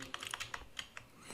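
Close, quiet computer keyboard typing in a Windows 10 setting, a quick run of light key clicks with a short pause, then a few more taps.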